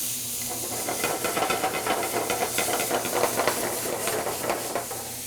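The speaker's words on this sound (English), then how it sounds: "So here I'm going to deglaze the pan, pull off all the greatness off the bottom of the pan." Loud, continuous hissing steam as a hot pan is deglazed in a cafe kitchen, with steady sizzling crackle throughout and no talk.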